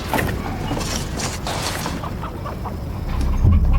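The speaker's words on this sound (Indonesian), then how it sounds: "mendengar suara gemerah dari kandang ayam" Chickens cluck and stir in a noisy coop, a dense jumble of squawks and rustling that swells slightly toward the end.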